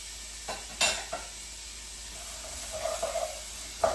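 Raisins cook in hot ghee in a pan, giving off a soft, quiet sizzle broken by a few light stirring scrapes and clinks of a spoon.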